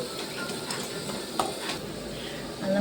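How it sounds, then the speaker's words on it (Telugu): Cumin being stirred in a pan for tomato curry: a soft, scattered scraping with a faint sizzle beneath, plus an occasional sharper clink from the utensil. The sound is close and moderately quiet. "నెక్స్ట్ మిక్స్ ఇట్, మళ్ళీ ఒకసారి ఇట్లా కలుపుకుందాం."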